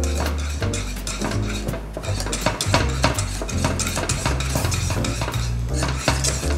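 Thick pastry cream with butter being stirred in a pot for pie in jar, the spoon or whisk clattering and scraping against the metal in quick, repeated strokes, close and loud.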